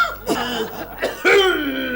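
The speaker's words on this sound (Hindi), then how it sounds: "ये प्रतिध्वनि खांसी है" A person coughs in a room, with a short cough early, then a louder burst of coughing near the end that trails off, with an echo-like doubled quality; no speech over it.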